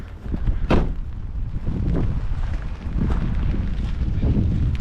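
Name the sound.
wind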